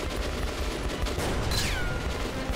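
Bullets ricochet off shields in Metro Last Light amid dense gunfire, with one clear descending whine standing out above the continuous rattling barrage.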